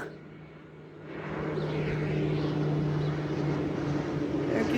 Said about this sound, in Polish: gdzie on leci, ten samolot?